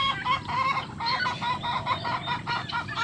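Chickens and turkeys on a farm, with steady overlapping clucks and bird calls close by, carrying on continuously for a few seconds.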